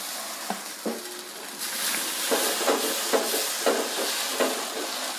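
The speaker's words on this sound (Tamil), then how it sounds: "இப்போ கல் ஒன்று சூடாயிடுச்சு. நம்ம தோசை வார்த்துக்கலாம்." Dosa batter hitting a hot griddle with a few clinks first, then a steady sizzle that swells up and carries on with light rhythmic scraping and tapping on top.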